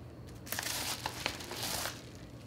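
A package is cut open with scissors during an unboxing, giving continuous crinkling and rustling of packaging close to the microphone with a few sharper snips and crackles, no talking.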